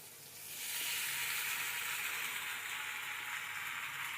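Chowmein is stirred and tossed in a hot pan. A steady, close sizzle swells in the first second and then holds evenly loud, with no talking.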